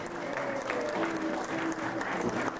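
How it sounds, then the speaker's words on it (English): Scattered clapping from a small family gathering, steady through the whole short moment at moderate level, with faint voices and a tonal hum mixed underneath. "Clap, people!"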